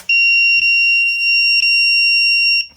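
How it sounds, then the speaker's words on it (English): A loud, steady, high-pitched electronic buzzer tone from a walking pad treadmill's circuit board, sounding continuously for nearly three seconds, with a few faint clicks underneath. "you can confirm that this piece over here is actually the buzzer"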